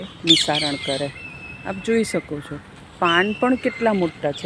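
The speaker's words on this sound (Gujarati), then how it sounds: "બરાબર ચોમાસું જામ્યું છે અને પંખીનો કલરવ છે" Birds chirp and twitter faintly in the background on a settled monsoon day, with scattered short calls running beneath a person's steady close-up talking.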